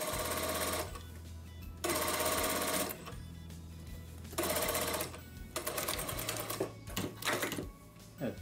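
Sewing machine stitching the curved cap of a coat sleeve onto the body, running in loud bursts of rapid whirring stitches that stop and restart several times, with short pauses in between.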